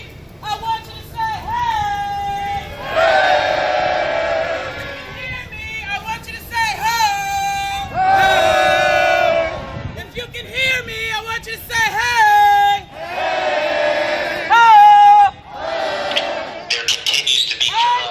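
A crowd at a Black Lives Matter protest chants call-and-response, with loud, rhythmic voiced bursts alternating with brief pauses and background crowd hubbub.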